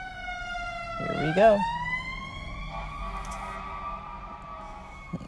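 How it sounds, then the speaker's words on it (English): An ambulance siren passes, its rising and falling wail sweeping clearly through the scene and fading out over a few seconds, with a brief spoken remark near the start. "Our routine podcast ambulance."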